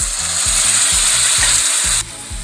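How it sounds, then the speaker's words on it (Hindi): Tomato paste hits hot spiced oil in a pan for chhole and sizzles loudly and steadily, with a rhythmic scraping of stirring running beneath the frying hiss. "अब टमाटर का पेस्ट डाल देंगे"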